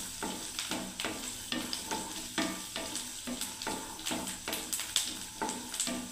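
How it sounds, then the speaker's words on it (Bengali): Garlic frying in a pan for a garlic bharta, stirred steadily with a spatula: a continuous sizzle broken by regular scraping strokes, close and moderately loud, with no talking. "সমানে খুন্তি নাড়তে হবে বন্ধুরা এরকম করে"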